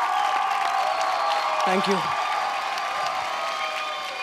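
Studio audience applause and cheering at a televised dance competition show, a steady broadband wash of clapping throughout with a short spoken thank-you partway in.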